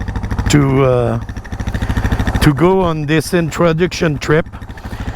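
A Suzuki DR motorcycle idles close by with a steady, rapid low thumping pulse that runs throughout, while someone talks over it.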